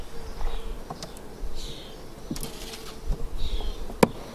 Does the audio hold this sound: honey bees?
yes